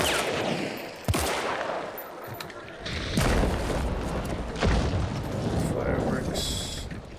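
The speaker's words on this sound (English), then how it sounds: "Fireworks." Fireworks go off in an online video game server: several sharp, booming cracks at irregular intervals, each trailing into crackle and rumble, over faint background chatter.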